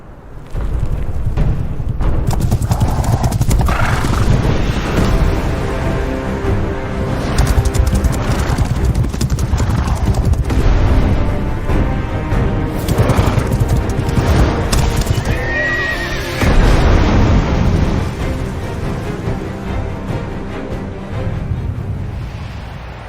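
The Doom horse in the video game Black Desert gives loud whinnies and neighs over heavy clip-clopping hooves, with booming, rumbling effects layered beneath throughout a long, dense stretch.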